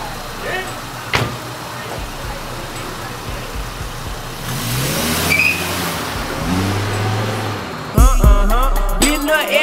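A car engine runs and revs during a short drive to a hotel parking spot, sitting under people talking and then partly covered by music that comes in near the end.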